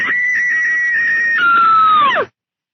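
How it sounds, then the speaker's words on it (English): A woman lets out a long, loud, sustained movie-style scream at close range, holding one high pitch and then rising and straining before cutting off abruptly into silence. "so you want to hear me scream?"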